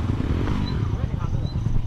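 A motorcycle engine drones steadily on a road at night, a low continuous rumble heard from the rider's position, with someone talking over it throughout.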